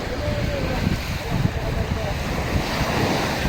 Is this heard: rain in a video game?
no